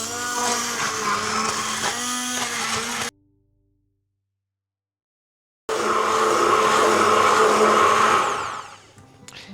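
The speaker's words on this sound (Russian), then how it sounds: "И пора их пропустить через блендер." A blender purees cooked apples, whirring loudly and steadily, stops for a few seconds of silence, then starts up again and winds down near the end.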